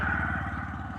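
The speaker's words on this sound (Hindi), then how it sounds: "और यहाँ पे एक बाइक गई," A motorbike goes by on a road near a cyclist, its steady engine drone with a low pulsing rumble holding throughout the short stretch, fairly close, with no talk over it.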